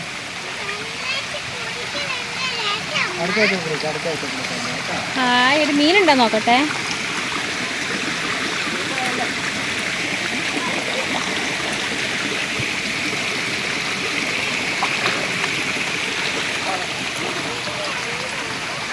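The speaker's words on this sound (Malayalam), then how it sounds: "ഇത് ചെറിയ തോട്." A small stream babbles and splashes continuously while someone talks over it for a few seconds near the start.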